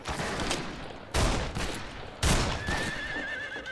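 In the western shooter game Fistful of Frags, a horse whinnies sharply amid bursts of gunfire, with two loud shots punctuating the short stretch and the neigh rising clearly near the end.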